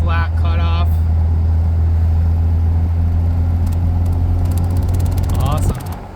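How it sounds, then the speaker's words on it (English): A Jeep JK drives along a street with a loud, steady engine and road rumble throughout, and a voice is briefly heard over it. "A little bit of on-street driving with some lights"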